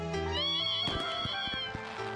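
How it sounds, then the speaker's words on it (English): A cat meows while being petted in the retro-styled game Desktop Survivors 98, a drawn-out tonal meow followed by a few short clicky sounds, fairly quiet and close. "Petting a cat in the dungeon on Windows."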